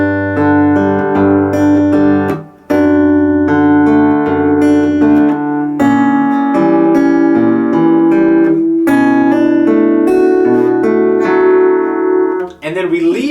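An acoustic guitar plays the note series from a song in clear, ringing plucked notes, each sustained and overlapping in a slow, even sequence with brief gaps, played alone without talk.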